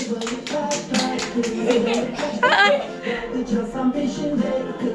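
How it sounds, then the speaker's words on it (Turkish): Rhythmic hand claps keep time during a children's musical chairs race, mixed with a lively voice singing and calling over the beat. "Alkış yapa yapa alkış yap."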